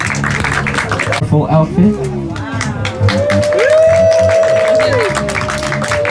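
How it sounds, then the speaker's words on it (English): Audience at a fashion show at Artcarfest 2015 clapping and cheering amid crowd noise, mixed with an announcer's amplified voice and other talk throughout. "A round of applause, please"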